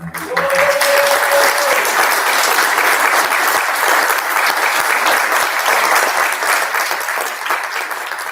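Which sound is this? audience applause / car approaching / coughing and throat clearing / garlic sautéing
audience applause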